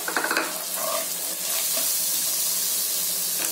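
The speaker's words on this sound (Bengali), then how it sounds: "এবার আমি এই কড়াইশুঁটিগুলো দিয়ে দেবো।" Green peas tipped into a sizzling kadai of hot ghee with split green chillies: a few quick soft drops at the start, then a steady, close frying hiss with no talking.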